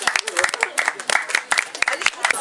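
A group claps together outdoors at a children's report-card picnic, quick uneven handclaps close and loud, with some chatter mixed in.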